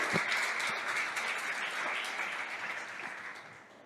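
A church congregation applauds in a dense, continuous wash of clapping, a little distant and gradually fading over a few seconds.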